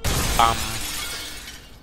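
A fragile glass-pane ceiling shatters in a video game, a loud crash of breaking glass with a bright burst of shards that trails into a long, noisy scatter of debris.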